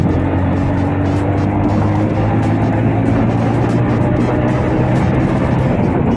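A Kawasaki H2R motorcycle accelerates hard in a street race against a Pulsar, its engine a loud, continuous, close roar that holds steady throughout with no voices over it.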